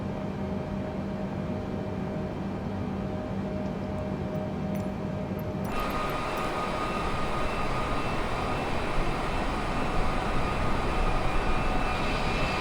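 Steady engine drone from an airplane in Microsoft Flight Simulator 2020 on a Milan to Turin flight, a continuous roar that abruptly grows louder and brighter partway through and then holds level, with no voices.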